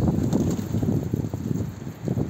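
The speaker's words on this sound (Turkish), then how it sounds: "Çok rüzgar var ha." Strong outdoor wind roars and buffets close against the microphone in continuous gusts, loud and rough, with no voices over it.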